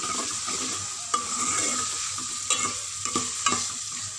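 Tomatoes frying in a pan for a ridge gourd (turai) curry, with a constant sizzle and several sharp scrapes and taps of a spoon against the pan as they are stirred. No one speaks.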